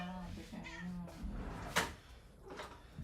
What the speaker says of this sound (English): Need to feed the cat.